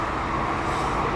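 Steady outdoor road traffic, a dense wash of passing cars and heavier vehicles blending into a continuous roar at close-to-middle distance, with no voices over it.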